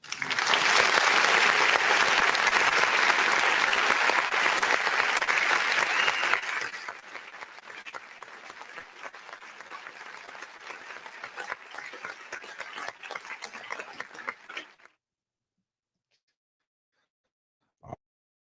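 An open mic night audience gives a loud, dense round of applause that fades to lighter, sparser clapping before cutting to silence, with one brief thump afterward.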